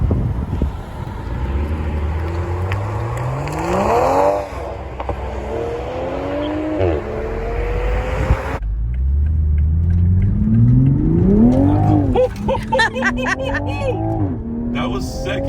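A 2021 Toyota GR Supra 3.0T pulls hard from a second-gear start, engine rising through a strong rev sweep, dropping, then climbing again with a sharp high-rpm peak near the end, loud and close with wind noise.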